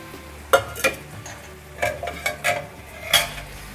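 Chopped tomato hits a pan of cooking potatoes and gets stirred, several separate scraping clatters of a spoon against the pan over a faint sizzle.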